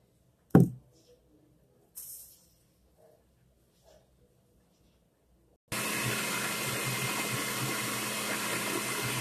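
A kitchen blender whirs steadily at full power after a few knocks and clatters, blending water with cinnamon into a smooth liquid; the motor noise is loud and broadband and carries on unbroken to the end.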